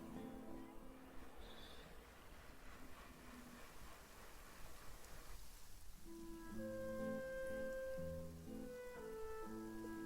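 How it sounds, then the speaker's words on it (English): Soft, steady rain patters in Genshin Impact, faint and continuous, before gentle melodic music tones take over in the second half. "Is it raining again?"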